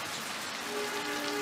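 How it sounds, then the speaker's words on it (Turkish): Steady rain falls in the background of a scene from the historical Turkish TV drama Muhteşem Yüzyıl, a dense, even hiss that continues without a break and with no voices over it. "Arkadaki yağmur sesinden bunların sesini duyamıyoruz ya."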